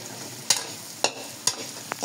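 Beef tripe for callos frying and being stirred in a pan, with a soft steady sizzle and four sharp scraping clacks of a utensil against the pan at regular intervals.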